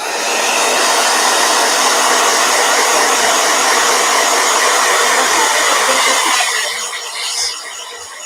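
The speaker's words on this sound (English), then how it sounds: "All right, blow dryer." A hair dryer runs loud and steady with a broad airy whoosh, continuing alone without speech and easing slightly toward the end.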